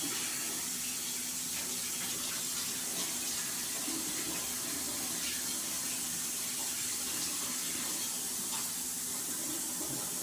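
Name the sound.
hot water running from a tap for bread dough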